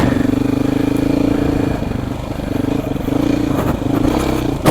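A Beta motorcycle engine drones loud and steady under a rider, its tone rising and dipping slightly with throttle, with some rattling clatter near the end and no talk.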